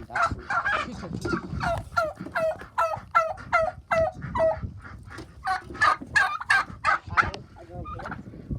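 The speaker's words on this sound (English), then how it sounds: "It's all the chickens. Chickens and ducks and turkeys." Turkeys, chickens and ducks on a farm: a flock of turkeys gobbles in rapid overlapping bursts close by, with clucking mixed in.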